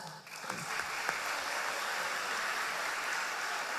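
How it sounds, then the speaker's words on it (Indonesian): Audience at an IPNU conference gathering in Makassar claps steadily for a pesantren delegation, a dense, even wash of hand claps filling the whole moment without voices. "Tepuk tangan."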